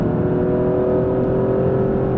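Alfa Romeo Stelvio Quadrifoglio engine held high at about 5,000 RPM, a steady loud drone with a strong sustained tone and a constant whirring roar throughout, no speech.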